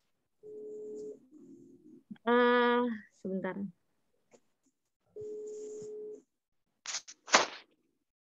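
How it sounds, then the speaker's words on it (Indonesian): A telephone rings during an online meeting, two separate electronic ringing bursts several seconds apart, moderately close, with brief voices and other short sounds in between. "Ada telepon ya."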